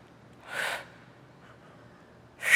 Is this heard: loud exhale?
yes